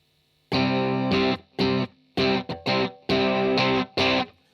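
Electric guitar chords with heavy distortion, struck in about seven loud sustained bursts with short gaps between, no voices.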